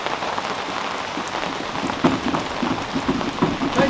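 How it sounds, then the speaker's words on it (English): Steady rain falls on the deck of a sailboat in tropical Malaysia, a dense, even patter close by with scattered louder drops and no voices. "Cleaning the deck while we've got a bit of rain."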